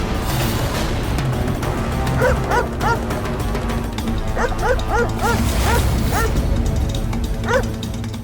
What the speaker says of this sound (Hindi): रूहान ये कुत्ते की भौंकने की आवाज से डर रहा है।